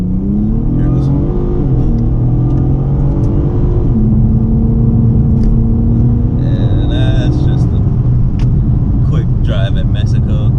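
A car builds revs in a hard, quick pull, the engine rumble climbing steadily over about ten seconds, loud and close, with higher whining tones entering near the end.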